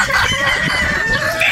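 A rooster crows in one long, drawn-out call, close and loud, with the clucking of other chickens mixed in around it, on a gamefowl farm in Batangas.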